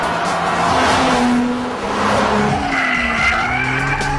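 A Nissan 370Z sports car driving with a loud, steady engine drone and tyre noise throughout, its pitch shifting as it accelerates, no voices present.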